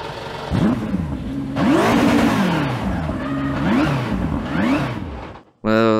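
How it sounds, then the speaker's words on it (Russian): In the Racing Master racing game, a recorded real car engine is revved several times, rising and falling in repeated loud close surges before cutting off, followed by a brief tonal beep. "Даже можем послушать звук двигла настоящий."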